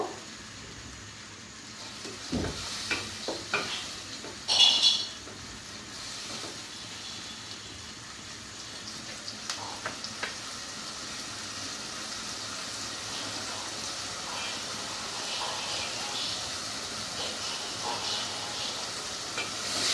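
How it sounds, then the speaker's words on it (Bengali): Spice paste fries in oil for a bean seed curry with koi fish and dried fish, giving a steady close hiss and sizzle with scattered spatula clinks. "ভালো করে কষাতে হবে যাতে তেলটা উপরে ভেসে ওঠে"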